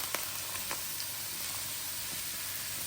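Cumin, ginger, green chili and zucchini frying in oil give a low, steady sizzle with a few faint crackles and stir clicks, no voices over it.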